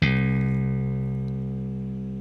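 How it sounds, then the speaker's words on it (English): A single guitar note on the seventh string of an eight-string guitar tuned to open C, plucked once and ringing with a rich low tone that slowly fades, with nothing else heard. "So here I have recorded the 7th string of my guitar tuned to an open C."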